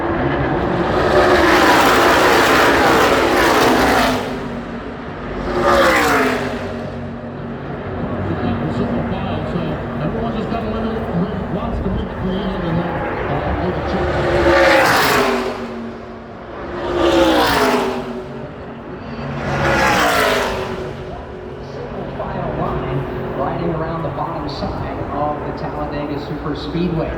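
ARCA stock race cars roar around Talladega Superspeedway late in a race, engines droning steadily with several loud pass-by surges as cars sweep past, under continuous broadcast commentary.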